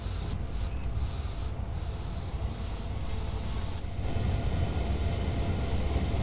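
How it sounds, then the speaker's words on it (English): An SD40-2 diesel locomotive slows under its automatic air brake in Train Sim World, a steady loud rumble with hissing air and faint brake squeal running throughout, no voices over it. "We will stop the train using the automatic brake."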